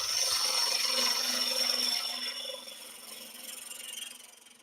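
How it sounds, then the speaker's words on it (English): Bowl gouge cutting driftwood on a lathe, a steady close scraping and rubbing hiss with a faint hum that eases and thins partway through, with no voice. "I'm putting pressure up through the length of the bowl gouge"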